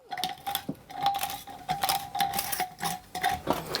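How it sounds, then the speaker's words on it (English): Metal nut being unscrewed from a Still Spirits T500 still, heard as a rapid series of close, light metallic clicks and ratcheting ticks with a faint steady whine underneath. "I'm taking out the nut from the T500"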